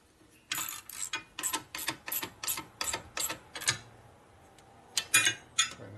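A hand ratchet clicks in a quick series of about a dozen crisp strokes while tightening parts on a 1977 Harley-Davidson Sportster 1000cc Ironhead motor during a rebuild, close and distinct, with a brief pause before a few final clicks.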